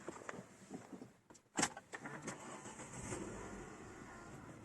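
Renault Fluence with keyless entry starting up: a sharp click and loud burst as the engine cranks, then a steady idle hum close by with no talking.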